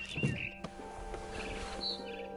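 Faint, thin barn swallow chirps and tweets come in short bursts over a quiet background hum, in the video game What Remains of Edith Finch.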